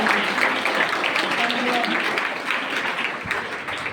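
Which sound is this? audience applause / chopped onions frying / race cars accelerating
audience applause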